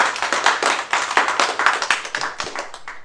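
A small audience at a cooking how-to demonstration claps briskly for about three seconds, a close, uneven patter of individual hand claps that tapers off at the end.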